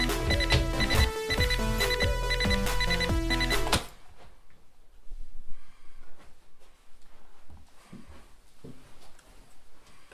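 An alarm rings rapidly and loudly for about four seconds during a live comedy set, then cuts off abruptly, leaving faint room noise and scattered murmurs.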